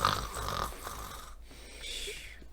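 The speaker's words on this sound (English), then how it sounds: "but I'm snoring" A person snoring faintly, with a raspy inhaled snore followed by a softer wheezy breath, quiet and close with no talking.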